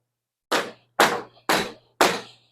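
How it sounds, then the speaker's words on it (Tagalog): A hammer or rubber mallet taps bar tape on a bicycle handlebar in four sharp, evenly spaced knocks about half a second apart, close and distinct against silence. "Pwede mong pukpukin ng martilyo o rubber mallet."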